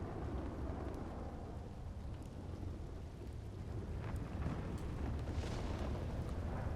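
Thunderstorm in a Red Dead roleplay game, with a sustained low rumble of thunder over steady rain noise, dense and constant, swelling slightly toward the end, with no talking.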